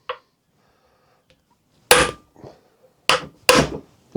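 A reasonable-size hammer strikes the outer cover of a Triumph T140 gearbox in sharp metallic taps: one faint tap, then three loud, distinct blows spaced over a few seconds, with quiet gaps between.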